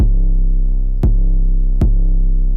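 A sustained 808 bass tone with heavy low end plays as a sample, retriggered twice with sharp clicky attacks, droning continuously and loudly throughout.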